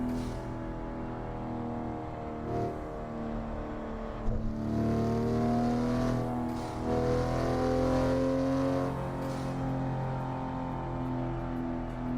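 Engine of a Toyota Supra MK5 in American Truck Simulator, with a steady tonal drone that rises and falls as it revs, loud and close throughout.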